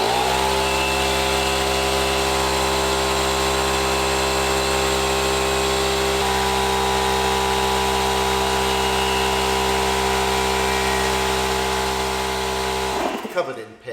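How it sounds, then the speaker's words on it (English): A small portable air compressor running continuously as it pumps up a flat supercar tyre, a loud buzzing drone that shifts pitch slightly partway through and cuts off abruptly near the end. "I've got my trusty colour coordinated compressor, so what we're going to do now is charge this up with compressed air"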